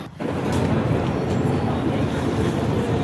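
A cruise boat crosses the open sea toward Alibag, giving a loud, steady rush of wind, engine rumble and water that fills the whole stretch without a break.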